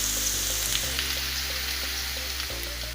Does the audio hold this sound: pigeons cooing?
no